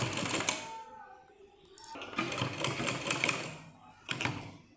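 A sewing machine stitches fabric for a small Laddu Gopal deity dress, its busy rattling running in uneven bursts that surge and ease over a few seconds at a fairly low level.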